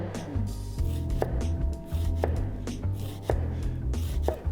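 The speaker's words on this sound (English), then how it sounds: "Just want to slice some of this red onion." A knife slices red onion on a board for a braai snoek glaze: four or five crisp, evenly spaced chops ring out close and clear over a low hum, with no talking.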